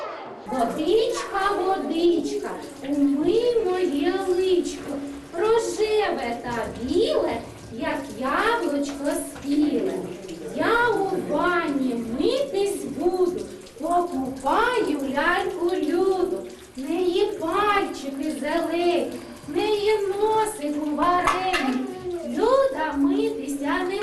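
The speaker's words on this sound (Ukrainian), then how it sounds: "Також на гру перетворюється і обов'язкове умивання теплою водою." Children wash with warm running water at a kindergarten sink, water splashing and trickling steadily beneath constant chatter from children and adults.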